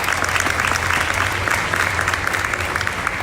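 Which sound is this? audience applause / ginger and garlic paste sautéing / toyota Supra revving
audience applause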